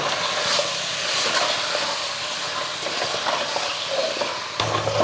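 Mutton sautéing in a pan with tomato, turmeric, salt and potato, a loud steady hiss with scraping stirs, continuous and close, ending in a brief pause.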